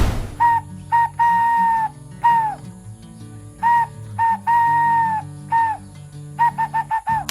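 A series of hollow, hooting whistle-like calls imitating a dove, made by blowing through cupped hands, in short and long bursts with pauses, ending in quick repeated hoots.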